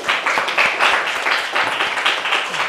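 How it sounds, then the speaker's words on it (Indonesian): A group of children in a classroom session clap for a classmate, a lively close patter of hands with uneven bursts, continuing for nearly three seconds. "Oke, tepuk tangan untuk Dewa Rai."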